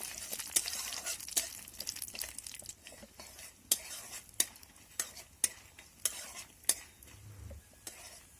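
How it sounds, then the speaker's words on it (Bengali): Lentil dumplings (bori) frying in mustard oil in a pan, a soft continuous sizzle broken by a string of sharp, regular scraping and tapping strokes from a stirring utensil against the pan, close and moderately loud. "এখন বড়িগুলোকে একটু লাল লাল করে ভেজে নেব।"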